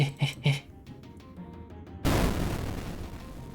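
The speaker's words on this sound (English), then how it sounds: "That was a big explosion" Explosion in the video game RuneScape, a sudden loud broadband blast with a decaying rumble after a few short clicks and quiet game sounds.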